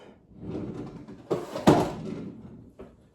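A kitchen drawer slides open and shuts, heard as soft rummaging followed by two sharp wooden knocks and a later quieter thud, close by with no speech.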